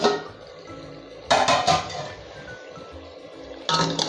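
A metal lid lifts off a steaming pot of bhajji, with sharp clanks and scrapes of metal against the pot, then a quieter hissing stretch and another clink near the end.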